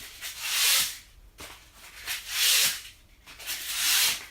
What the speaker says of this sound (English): now, yeah, I'm gonna sand it